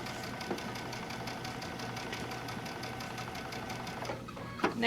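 A sewing machine with a walking foot runs steadily through fabric for a half-inch seam on a pillow, a continuous close mechanical stitching whir with a faint rhythmic patter throughout.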